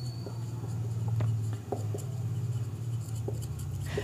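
Chalk or marker scratching across a board during a pharmacology lecture, a loud, close run of rubbing strokes with short taps between words, continuous over the whole stretch.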